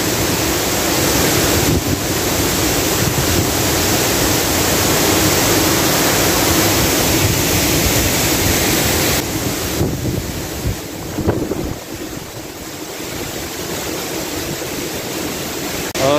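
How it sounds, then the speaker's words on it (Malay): Roaring cascade of Chaloem Phra Kiat King Rama IX Waterfall in Betong, a constant broadband rush of falling water heard close and loud, unbroken across the whole stretch with no speech. "Air terjun King Rama."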